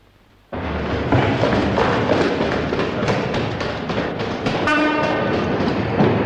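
A train passes close by after a quiet start, loud and steady, with a rumbling roar, rhythmic clickety-clack of wheels and brief horn-like tones near the end.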